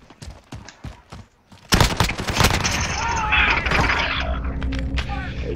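Rapid gunfire in Call of Duty Modern Warfare, starting as a few sparse shots and then swelling into a dense, sustained barrage of automatic fire and booms. The shooting is loud and continuous.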